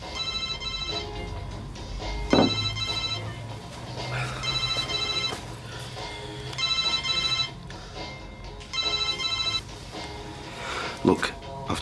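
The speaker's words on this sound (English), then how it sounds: "That your phone keeps going." A mobile phone rings in repeated trilling bursts with short pauses between them, close and clear, while people talk around it.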